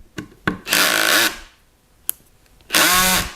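A Bosch GSR 12V-35 Professional cordless drill driver runs in two loud, close bursts of whirring as it drives a screw into wood, with sharp clicks and taps between bursts.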